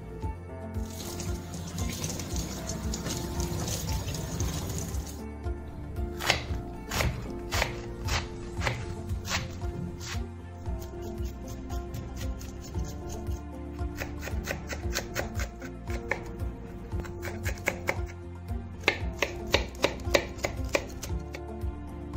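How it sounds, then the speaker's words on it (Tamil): A knife chops a quarter of a large cabbage on a board, opening with a few seconds of rough rubbing, then crisp, closely spaced chopping strikes in uneven bursts, near and clear with no talking. "ஒரு பெரிய முட்டைக்கோஸில் ஒரு காவாசி மட்டும் கட் பண்ணிக்கோங்க"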